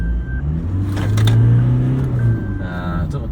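Toyota Fortuner VRZ diesel SUV accelerating hard, a steady low engine drone building under the cabin with a faint whine, loud and close from inside, with people talking over it.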